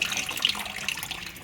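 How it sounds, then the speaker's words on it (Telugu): Tap water running while greasy kitchen chimney plates are washed with plain water, a soft continuous splashing hiss with small clatters, fairly faint and close. "సో నార్మల్ వాటర్తో అయితే వాష్ చేసేసుకుంటున్నాను"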